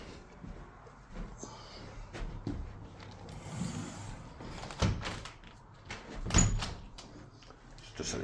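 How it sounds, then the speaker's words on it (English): Windows pushed closed and shut indoors, with several knocks and slams spread across about eight seconds, nearby and fairly loud, with some low background shuffling. "Let's close the windows while we're up here."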